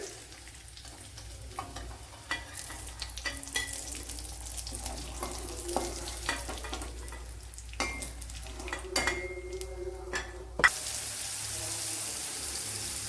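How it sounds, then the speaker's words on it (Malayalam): Soya chunks fry in hot oil in a pan, a steady close sizzle with scattered clicks and stirring scrapes throughout, ending in a louder, brighter hiss near the close. "അപ്പോൾ ഇച്ചിരി സമയം വെയിറ്റ് ചെയ്ത് നിന്ന് ഫ്രൈ ചെയ്ത് തന്നെ എടുക്കണം."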